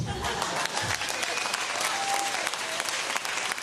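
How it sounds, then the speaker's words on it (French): A comedy-show audience breaks into sustained applause filling the room, dense and steady throughout with a few voices mixed into the crowd noise. "Applaudissez si vous pensez que c'est de la bullshit"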